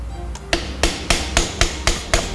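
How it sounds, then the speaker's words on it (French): Hammer lightly tapping bearings into place on a front axle differential nose during bearing replacement, seven sharp metallic taps at a steady, slightly quickening rhythm, close and clear with no talk. "Je prends mon marteau, je tape légèrement"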